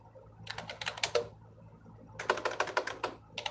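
Someone types on a computer keyboard in two quick bursts of close, crisp key clicks separated by a short pause, with no talking.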